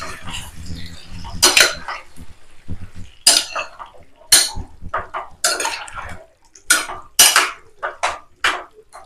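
A metal spoon scrapes and knocks against a pan while chicken is stirred and mixed, giving sharp clattering strokes in irregular bursts with quiet gaps between.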